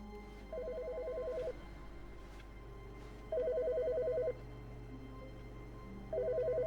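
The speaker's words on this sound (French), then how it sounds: "Il y a le téléphone qui sonne." A telephone rings in The Stanley Parable video game, three separate electronic trilling bursts about a second long each, spaced a couple of seconds apart over a low steady hum.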